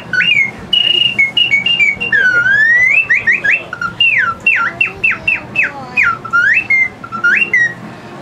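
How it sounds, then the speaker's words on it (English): Bright, shrill bird calls from a one-hole whistle, rapid upward and downward chirps and warbling trills in quick bursts, loud and close, with faint background noise underneath. "It's a one-hole whistle, just a flick of the finger, you get the bird calls"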